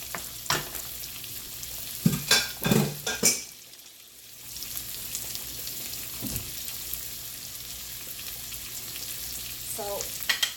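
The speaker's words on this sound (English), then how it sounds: "I'm going to put the shrimp in it." Shrimp frying in a pan for shrimp scampi, a close steady sizzle broken by clattering stirs and utensil scrapes against the pan, with a brief quieter dip before the sizzle resumes.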